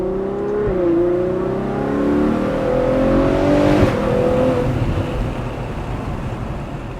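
A Lamborghini Aventador sports car engine revs hard with its exhaust flaps opening. The note climbs in a rising, harmonic sweep, peaks around the middle, then settles into a steady rumble, close and loud with no talk.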